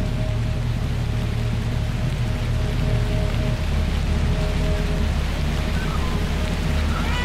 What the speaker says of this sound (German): Ach, jetzt regnet's auch noch.